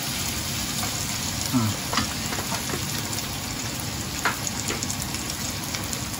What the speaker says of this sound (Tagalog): Para magmantika pa ng konti, halo na rin natin yung ating pinukulo ang spare ribs.